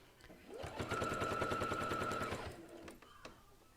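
A sewing machine back stitches fabric for a blanket, with a rapid mechanical rattle of needle strokes building and running for about two seconds, close and fairly quiet, then a few clicks as it stops.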